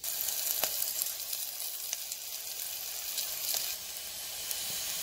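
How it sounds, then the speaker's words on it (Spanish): Onion and garlic frying in hot oil in a pan, a steady bright sizzle with a few faint clicks of a utensil, fairly quiet and without talking. "vamos a agregarle la cebolla y el ajo"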